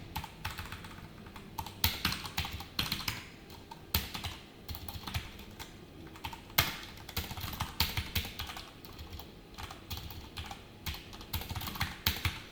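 Steady typing on a computer keyboard while entering web code, with quick irregular clacks that run on without pause at a moderate, close level and no talking.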